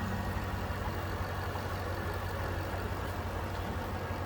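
A 2006 Cadillac XLR-V engine runs steadily at idle, a low, even hum heard close by and moderately quiet with no talk.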